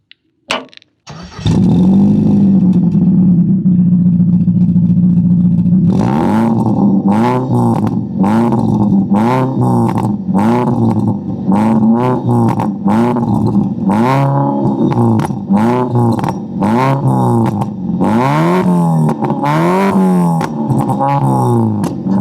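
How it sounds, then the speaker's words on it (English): A car engine starts and idles loudly, then revs over and over in a quick rhythmic pattern, the exhaust roaring with pops and bangs on each blip, before a fuel system cleaner is added. "what the pops and bangs sound like before adding the liquid"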